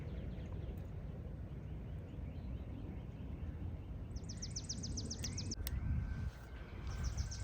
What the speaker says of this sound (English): I would just love just to hear the birds in the background